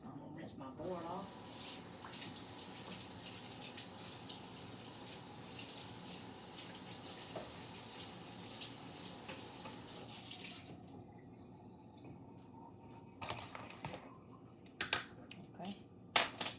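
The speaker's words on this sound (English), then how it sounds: "so I'm gonna rinse my board off" Tap water running steadily into a kitchen sink while a cutting board is rinsed, a continuous splashing hiss that stops partway, followed by a few sharp clatters and knocks close by.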